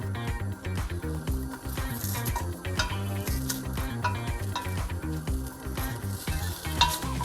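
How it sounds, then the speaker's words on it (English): Potato, celery, garlic, shallots and carrot sautéing in a pot for vegan butternut squash soup, with a steady close sizzle and repeated stirring scrapes throughout, some light utensil clinks, no talking. "Now I'm going to add in the potato, celery, garlic, shallots, and carrot. So we'll just saute this for a couple minutes."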